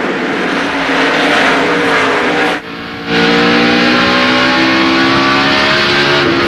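NASCAR Winston Cup stock cars race at Richmond International Raceway, a loud continuous roar of engines passing close with rising and falling pitch and a brief dip before the pack surges back.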